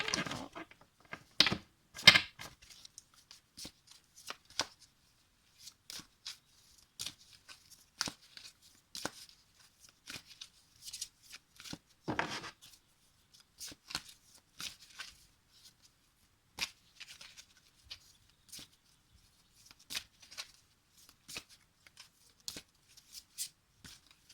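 Tarot cards shuffled close up in a quiet room, a long run of soft, irregular riffling and slapping bursts with brief pauses between them.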